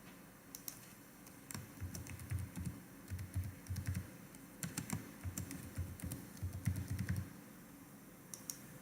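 Someone types a password on a computer keyboard while setting up a Ricoh scanner on Windows 10, producing quiet, close key clicks in short bursts with brief pauses between them.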